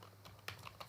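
Faint computer keyboard typing, a short run of soft, irregular key clicks close by in a quiet room, lasting about a second with no talking.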